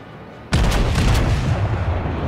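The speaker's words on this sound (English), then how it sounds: "There we go, fire a few shots, you never know." Naval guns firing in World of Warships from the battleship Warspite: one sudden loud boom after a quiet lead-in, followed by a long rumbling roar with crackling echoes that stays close and heavy to the end.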